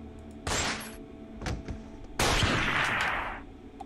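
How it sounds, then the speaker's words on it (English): A gunshot rings out in The Dark Inside Me, with a sharp burst followed by a second, louder blast that hangs and decays over a few seconds, fairly near and unmuffled. "Gotta shoot this man."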